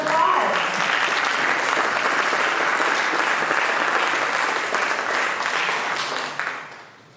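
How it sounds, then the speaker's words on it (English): An audience applauds the award winner, Protonic Tech, named audience favorite at an energy technology showcase. The clapping is dense and steady for about six seconds, then fades out quickly at the end. "Let's give a big round of applause."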